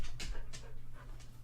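A tired dog pants close by, with quick, rhythmic breaths over a steady low hum and no talking.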